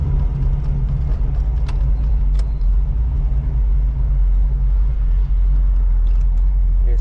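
A 1985 Oldsmobile Cutlass fitted with a brand new carburetor, its engine a deep, heavy rumble heard close up from inside the car, holding strong and steady for the whole stretch with no voices.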